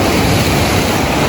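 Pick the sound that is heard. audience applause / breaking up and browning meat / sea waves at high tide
sea waves at high tide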